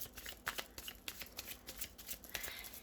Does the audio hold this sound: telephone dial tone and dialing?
no